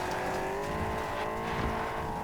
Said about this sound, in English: Man, this Volkswagen Rabbit Golf of the future hauls ass.